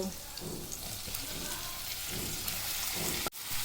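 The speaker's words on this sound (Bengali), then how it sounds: "রসুনটা একটু ভাজা ভাজা হচ্ছে, এর মধ্যে পেঁয়াজ কুচিটা দিয়ে দেব।" Garlic and chopped onion fry in very hot mustard oil, giving a dense, continuous sizzle and crackle close by, with a few soft stirring scrapes and a sharp knock near the end.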